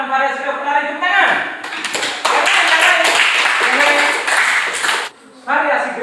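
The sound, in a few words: students clapping hands in class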